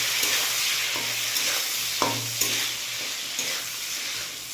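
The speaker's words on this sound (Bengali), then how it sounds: "আমি এবার এর মধ্যে শিম কেটে দিয়ে দেবো। এবার একটু নাড়বো।" Potatoes and freshly added cut flat beans fry in a pan while being stirred, a steady broad sizzle broken by a few sharp scrapes and clinks of the spoon, close and continuous with no voices.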